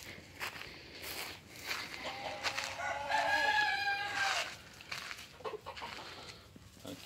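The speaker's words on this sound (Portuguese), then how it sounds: "Aqui é o galo velho." An old Cemani rooster crows once, loud and nearby, with a drawn-out call in the middle, and softer clucks and footsteps sound around it at a breeding farm.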